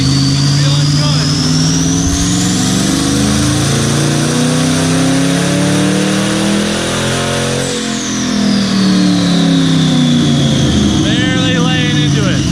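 A 1000+ hp car engine revving on a dyno with a fresh tune, rising and falling through long pulls and steady roaring, loud and close, with people talking underneath.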